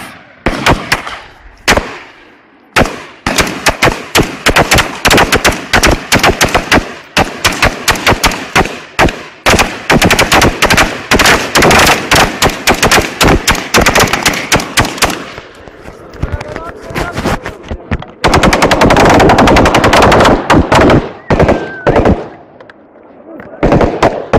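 Rifle shots ring out at a military shooting range during practice, sharp cracks in rapid irregular bursts, some overlapping into fast strings, loud and close throughout, with brief shouted voices between.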